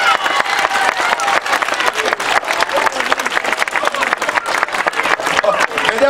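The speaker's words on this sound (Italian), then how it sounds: "un applauso adesso per Luigi e Giorgio" An audience claps for Luigi and Giorgio at a prize ceremony, dense, sustained applause with sharp individual claps, fairly close and loud, with a voice briefly heard over it.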